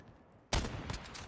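Gunfire in Call of Duty, a sudden loud burst after a quiet start, followed by a second shot and a dense, reverberant crackle of fire continuing to the end.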